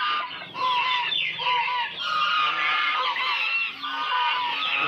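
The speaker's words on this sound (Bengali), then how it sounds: "আমার 3টা মেল 2টো ফিমেল রাজহাঁস" Domestic geese kept at home, three males and two females, honk loudly and repeatedly at close range, their harsh calls overlapping in an almost continuous chorus.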